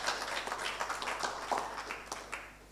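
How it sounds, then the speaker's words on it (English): Audience applause for visiting students at a talk on Rastafari women and the struggle against colonialism, a soft, scattered clapping that stays faint and steady for a few seconds with no voices over it. "I just want to give another round of applause to them."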